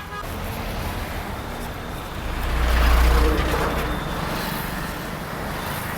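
Busy roadside traffic on a dusty route, with a heavy vehicle rumbling past close by in the middle and steady engine noise throughout; distinct horn blasts are not evident.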